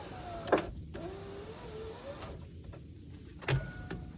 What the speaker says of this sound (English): either the motor's getting weak or I need to grease the window track a little bit better.